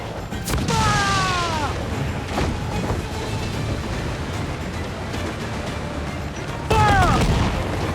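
Ship cannons firing during a naval battle in Assassin's Creed IV: Black Flag, heavy booming blasts rolling over ocean surf, with whistling projectiles streaking out near the start and again toward the end amid dense battle noise.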